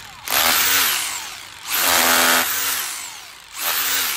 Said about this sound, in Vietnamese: Đây là mũi khoan nha anh em.